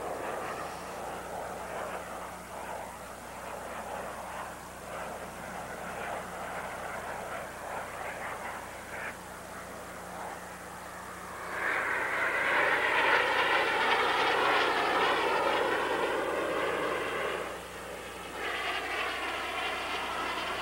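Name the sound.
Snowbirds aerobatic jet aircraft flying at airshow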